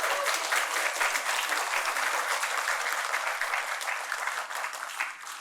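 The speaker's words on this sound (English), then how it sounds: "Very big round of applause for you." A conference audience gives a big round of applause, loud dense clapping holding steady before tapering slightly toward the end, no voices over it.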